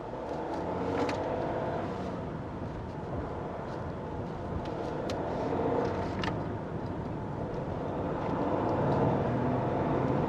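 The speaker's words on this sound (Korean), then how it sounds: "스포츠 모드를 누르자마자 소리가 바뀌어요" A Maserati Ghibli diesel in sport mode, heard from inside the cabin while driving: a steady, deep engine and exhaust drone with a broad rushing roar that swells gently, with no talking.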